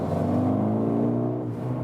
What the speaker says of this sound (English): And you also hear more of the exhaust, definitely.